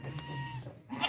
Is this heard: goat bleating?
yes